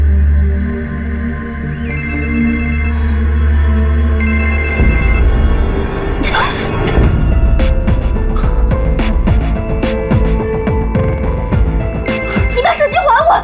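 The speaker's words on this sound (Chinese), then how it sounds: "接电话" A phone rings in a repeating electronic pattern, two clear bursts of the ringtone, followed by rustling, clattering movement and voices speaking nearby.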